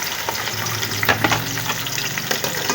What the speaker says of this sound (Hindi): सबसे पहले मैं घी डाला है, भिंडियाँ डालूँगी।